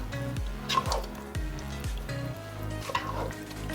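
Khmer chicken red curry with chicken powder is stirred in a hot pan: a few rhythmic scraping strokes over a steady sizzle, close and moderately loud, with no talking.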